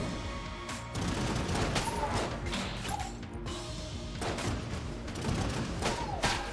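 Gunfire from a weapon in the video game Enter the Gungeon: a busy stream of fast, punchy shots and mechanical clatter with chiming pickup tones, fairly close and continuous, with no voices.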